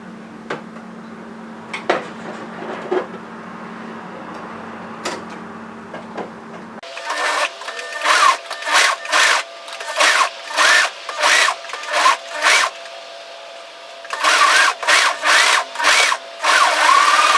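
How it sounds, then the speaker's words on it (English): A sewing machine stitches a sweater sleeve hem in repeated short bursts of rapid mechanical whirring, each run separated by brief pauses, after a quieter stretch of faint handling noise. "Now I'm going to sew the sleeve hem."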